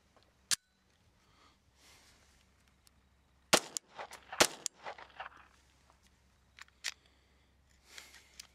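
Several sharp, loud single gunshots from a firearm firing Federal Auto Match ammunition ring out at irregular intervals, with quieter clanks and shuffling between them and no talking.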